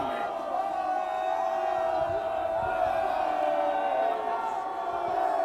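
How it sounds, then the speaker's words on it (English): Spectators at a university rugby match between LSE and IC yell and chant in a sustained, loud wall of voices to unsettle a kicker before a conversion. "The LSE crowd up to their usual antics, trying to put off the kicker"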